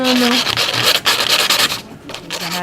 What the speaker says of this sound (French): On vient poncer un peu.